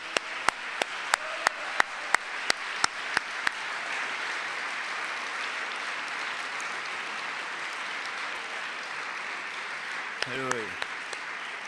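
A church congregation bursts into applause, a dense wash of many hands clapping that holds steady throughout, opening with sharp rhythmic claps and closing under a brief spoken word.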